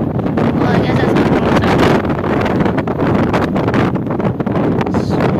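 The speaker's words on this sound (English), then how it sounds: "It's really windy." Strong wind gusts across a mountain peak during a family hike, roaring steadily and loudly against the microphone for the whole stretch with no pause.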